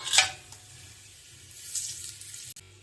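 Whole biryani spices drop into hot oil with a sharp, hissing crackle up close, fading to a quieter sizzle before a second brief surge of frying hiss.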